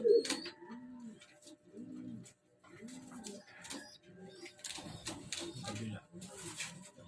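A Janssen hen pigeon coos in a loft, a series of soft, rounded, repeated coos in a steady rhythm, fairly close, with light rustling and someone talking between the calls.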